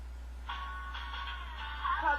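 A song plays as a phone ringtone, a faint tinny melody with sustained tones starting after a brief pause and running to the end.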